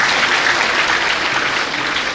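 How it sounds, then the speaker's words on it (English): An audience at an India–Japan cultural festival breaking into loud, dense applause, a continuous wash of many hands clapping close by with no voices over it. "Once again, please give her a big round of applause."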